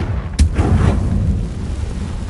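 A Confringo fire spell blast in Hogwarts Legacy, heard as a single sharp, loud boom with a crack at the onset, followed by a low rumbling tail and fainter bursts.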